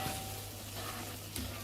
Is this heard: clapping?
no